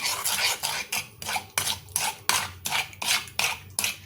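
A utensil mixing powdered sugar into chocolate ganache in a bowl, quick rhythmic scraping and clinking strokes repeating about twice a second, close and distinct with no talking.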